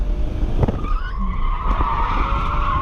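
Drift car tires squealing during a drift run, a loud sustained screech with a rising tonal whine over a steady engine roar, close and continuous throughout.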